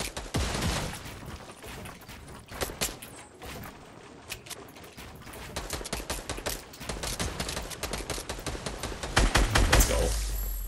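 Fortnite gunfire: many sharp shots in irregular bursts and rapid strings, close and loud, with a final heavier cluster near the end.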